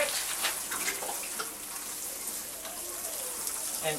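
Water sprays and splashes steadily onto sweet corn seedlings in a garden. The hiss is constant and close, with a faint voice underneath.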